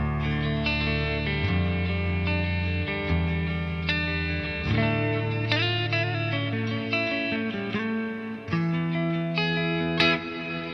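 Clean electric guitar played through a TC Electronic Plethora X5 pedalboard with compression, delay and reverb, sustained chords and single notes ringing out with a smooth, slightly echoing tail, alone and at steady volume.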